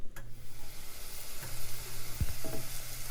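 Sliced mushrooms sauté in a butter-coated pan, a soft steady sizzle close by, broken by a couple of sharp utensil knocks and a brief scrape as they're stirred.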